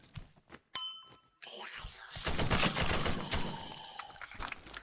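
Gunfire and grenade blasts from the video game The Killing Antidote, starting with a few sparse shots, then a dense burst of rapid automatic fire and explosions that stays loud and close to the end.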